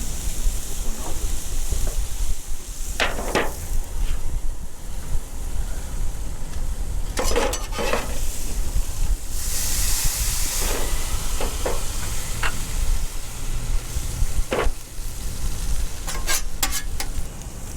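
Smashburger patties sizzle steadily on a Blackstone griddle in an old-school cook, a dense broadband hiss running throughout with occasional scraping clicks and metallic taps from a spatula.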